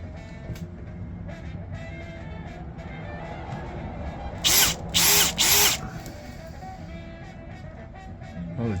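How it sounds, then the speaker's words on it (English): A power drill bores holes in a mounting bracket during a Honda EF Civic sedan restoration, with three loud, close whirring bursts over a background hum in the middle of the clip. "I think I'll do that and then drill out the 3 holes."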